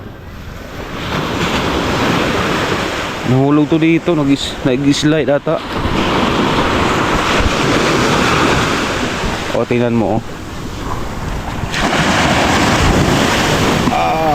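Powerful ocean surf roars continuously with heavy wind buffeting the microphone, while a person speaks briefly over the crashing waves.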